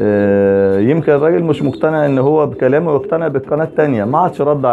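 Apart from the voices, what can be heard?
No distinct noise like a dog, phone or traffic.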